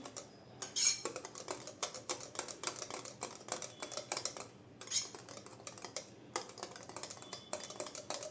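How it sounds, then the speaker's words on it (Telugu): A spoon stirs mango kulfi mixture with cardamom powder in a bowl, giving quick, irregular clinks and scrapes with short pauses, close and fairly quiet, with no voices. "ఈ విధంగా మొత్తం కూడా కలిసిపోయే వరకు కలిపేసుకోవాలి"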